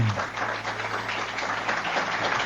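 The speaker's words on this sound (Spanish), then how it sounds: "darle el aplauso" A church congregation claps together during a sermon. The applause is a dense, even wash that holds steady over a faint low hum.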